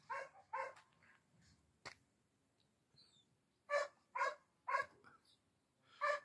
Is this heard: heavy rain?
no